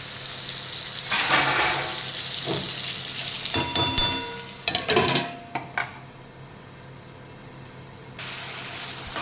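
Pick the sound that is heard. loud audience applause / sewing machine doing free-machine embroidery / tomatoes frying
tomatoes frying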